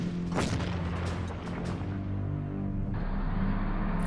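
Artillery shells burst around a tank in the World War II strategy game Panzer Corps, a few loud booms rolling into a low sustained rumble.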